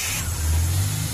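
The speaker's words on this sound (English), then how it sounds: "the part is in and is definitely working since the car started" Ford Falcon engine running just after starting, a steady low rumble with a slight rise in revs, close by and loud with no talking.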